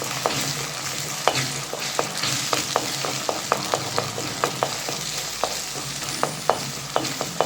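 Egg and okra stir-fried in a pan, seasoned with pepper powder and salt, giving a steady sizzle broken by frequent sharp scrapes and taps of the spatula in an uneven rhythm, close and alone.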